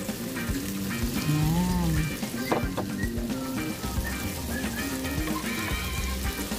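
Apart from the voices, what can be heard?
shrimp frying in a pan with squash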